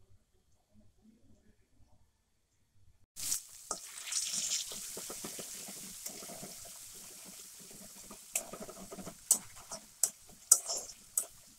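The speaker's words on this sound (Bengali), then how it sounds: "জল দিয়ে দেবো, এখানে অল্পই জল দেবো" Water is poured into a pan of frying poppy-seed and green chilli paste for a Bengali rohu curry, making a sudden steady hiss and bubbling after a few seconds of quiet, followed by scattered clicks and taps.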